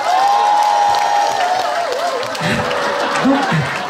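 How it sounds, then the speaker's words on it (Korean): An audience claps and cheers for a street performance in Daejeon, a short burst of steady applause with a voice speaking over it near the end. "박수 한번 주시오."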